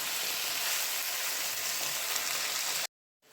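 Chicken sautéing in a pan for a basmati rice biryani, a steady loud sizzle and crackle close up that cuts off abruptly near the end.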